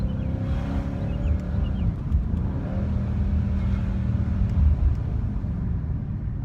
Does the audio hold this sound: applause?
no